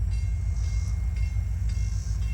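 A train approaches slowly at the Sardinia Y, producing a steady low rumble with faint rhythmic wheel clatter and no voices.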